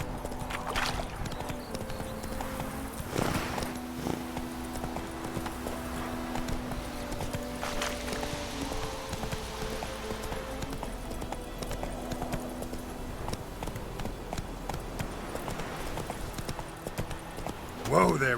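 Roach, the horse in The Witcher 3, clip-clops steadily at close range throughout, with game music and a voice speaking over the hooves.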